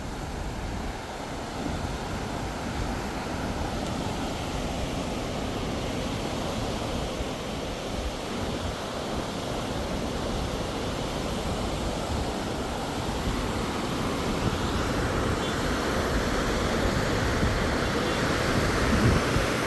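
River water rushes through a small gap under a bridge in Pokhara, Nepal, heard from above as a steady, continuous broadband roar with no pauses.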